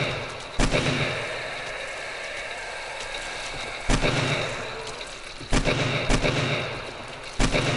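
Gunfire in the survival game 7 Days to Die on PS5: four loud, close single shots at irregular intervals, each a sharp crack with a short decaying tail over low game ambience.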